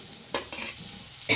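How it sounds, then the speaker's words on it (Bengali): Boiled potato being lightly fried and stirred in a pan for a spicy bharta: soft sizzling with a few scraping stirs of the spatula, close and moderately quiet. "হালকা করে ভেজে নিচ্ছি, সিদ্ধ করে নিয়েছি সেই আলুটা এরকম দিয়ে দেবো"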